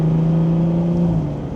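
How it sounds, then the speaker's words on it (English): A BMW 340i with the B58 engine drives along, its intake giving a steady, close droning hum with a low tonal whir that holds evenly and eases slightly toward the end. "That intake sounds so devious, man"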